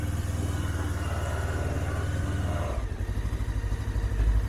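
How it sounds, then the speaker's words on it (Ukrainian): A Honda CB500S motorcycle engine idles steadily with the choke off, a close, even mechanical rumble that holds a constant rhythm, dipping slightly near the end with no talk. "Забрали підсос, рівно тримає оберти."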